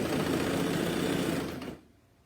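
A sewing machine stitches in a clothing tag on a camisole, a loud, close, steady motor whir with rapid needle rhythm that runs continuously, then stops abruptly and leaves near silence.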